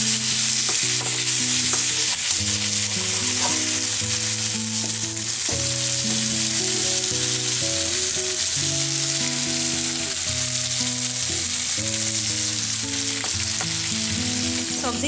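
Potato and pointed gourd pieces sizzle continuously in a pan of hot oil while being stirred, the loud frying crackle broken by occasional scraping strokes, with no voices.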